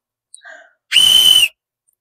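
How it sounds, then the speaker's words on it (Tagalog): A stainless steel safety whistle blown once, a short, loud, piercing shrill blast lasting about half a second after a brief faint squeak. "Ganun po kalakas ang ating stainless steel na whistle."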